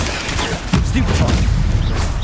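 A Stupefy spell cast in the Hogwarts Legacy video game bursts out as a sharp, booming blast, one loud hit followed by a rumbling crackle that fades slowly.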